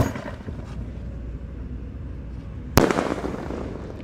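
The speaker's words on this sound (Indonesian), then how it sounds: "Bima Sakti 4 seperti namanya, langsung kita nyalakan guys" Bima Sakti 4 firework lit at a pre-Ramadan gathering: a low fizzing fuse hiss, then a sharp loud launch bang followed by crackling burst noise, heard nearby.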